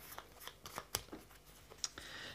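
Small stack of escape pod cards from a sci-fi board game being shuffled by hand, a few quick crisp riffles and taps, close and quiet with no talking.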